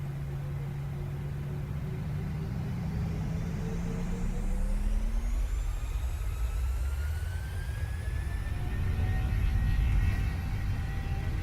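Simulated PMDG Boeing 737 jet engines spool up for takeoff in Microsoft Flight Simulator, a steady roar whose whine rises and climbs in pitch as thrust builds, growing louder toward the end.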